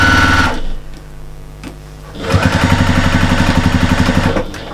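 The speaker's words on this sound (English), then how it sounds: "Strong back stitches there" A sewing machine runs in a steady, fast rhythmic burst, stitching strong back stitches through the thick layers of a fabric bag, loud and close after a short pause of quieter handling.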